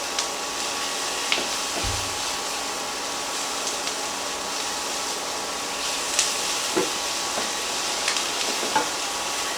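Flour and onions cook together in a pan for a creamy tomato basil soup, giving a steady sizzle and hiss with a few soft stirring scrapes and no talking.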